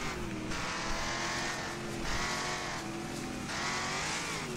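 A race car engine in the video game Wreckfest roars loudly and continuously, revving up and down in repeated surges with tire noise, close and with no talking.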